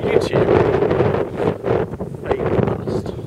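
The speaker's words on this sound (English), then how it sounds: "it's quite windy. There's like spray being blown off the Tarn." Strong gusts of wind by Easedale Tarn buffet the microphone in loud, uneven bursts, blowing spray off the water, with rushing noise rising and falling throughout.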